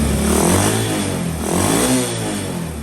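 A Honda CT110 motorcycle engine runs at idle close by, a steady loud putter that swells slightly twice over a few seconds.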